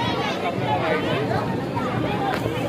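Dense crowd chatter fills a packed street during the Lalbaug Ganpati festival, a steady, close murmur of many overlapping voices with no single sound standing out.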